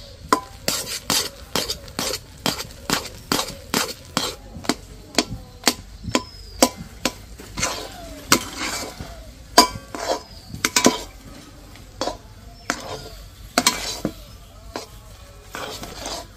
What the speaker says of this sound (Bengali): ঢাকনাটা খুলে এবার ভালো করে নেড়ে ডোটা তৈরি করে নেব।